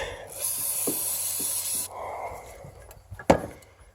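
An aerosol can sprays fogging oil into a snowmobile engine for storage, hissing in a burst for over a second, then stopping. A softer hiss follows, and a sharp knock lands near the end.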